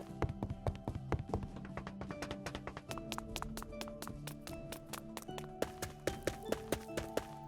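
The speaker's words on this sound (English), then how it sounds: "some new footstep sounds" Footsteps in Terraria with the Ambience mod, a steady run of quick, crisp taps at an even running pace, fairly faint and close, alongside soft tonal background sound.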